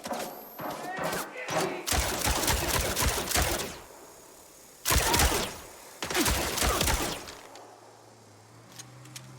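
In the MindsEye game, bursts of rapid gunfire erupt in several loud clusters separated by short lulls, punctuated by thuds and impacts, with a low rumble trailing at the end.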